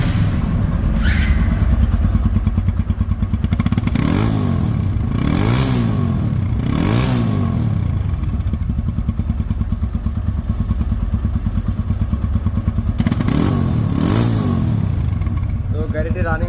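A 2020 Apache RTR 2V motorcycle engine starts with a few revs, then settles into a steady, close idle with rhythmic chugging and some clattering.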